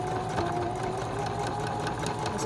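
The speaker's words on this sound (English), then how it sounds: "I'm going to sew them together all the way down." Sewing machine stitching a fake French seam, running at a steady speed with a fast, even mechanical whir and needle clatter, close and continuous, with no talk.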